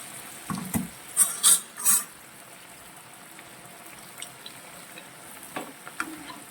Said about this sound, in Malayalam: ഇത് നല്ല ഗോൾഡൻ ബ്രൗൺ കളർ ആവുന്നത് വരെ നമ്മൾ നന്നായിട്ട് ഫ്രൈ ചെയ്തെടുക്കുക